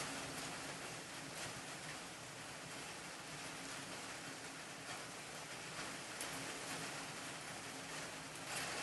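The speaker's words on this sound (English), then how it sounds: "can people hear the rain?" Rain falling steadily, a dense, even hiss of drops that holds at a constant moderate level for about nine seconds with no talking.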